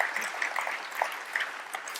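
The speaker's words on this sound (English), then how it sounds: "A round of applause for that one, both ladies and gentlemen." Audience applause at a live business interview, a dense crackle of many hands clapping steadily for about two seconds at moderate distance.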